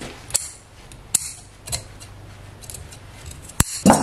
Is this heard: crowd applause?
no